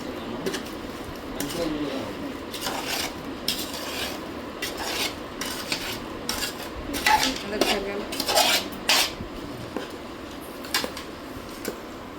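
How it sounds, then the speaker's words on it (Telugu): Raw mango pieces, about four kilograms, are stirred into Telangana-style mango pickle in a bowl. Irregular scraping and clinking of a utensil against the vessel go on throughout, with louder bursts of clatter and rubbing. "ఇక ముక్కలు ఇందులో వేసి ఇక పచ్చడి కలుపుతాం"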